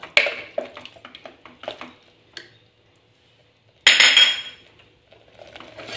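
A metal spoon clinks and scrapes against a pot while stirring chili, turmeric and coriander powders into chicken curry, several sharp close taps, a pause, then a louder burst of scraping.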